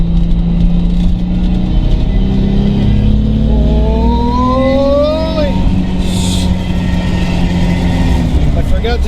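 A Mazda RX7 FC3s rotary engine with a custom exhaust accelerates hard under increased turbo boost, giving a loud, continuous rising drone with a climbing pitch sweep, while a voice talks over it.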